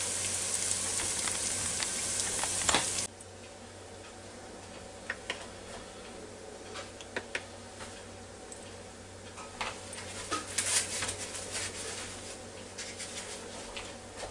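Sliced ribeye beef frying in pan juices on a Ninja Foodi: a loud hiss at first, then a steadier, softer sizzle with scattered pops and ticks.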